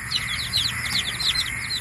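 Newly hatched Basilan and Rhode Island chicks peep in a rapid, high, continuous chorus under a warm lamp, many small calls overlapping at close range.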